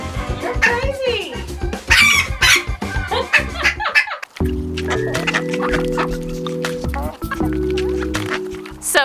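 Backyard chickens cluck and squawk loudly and close by in quick bursts, with a rooster crowing over the flock.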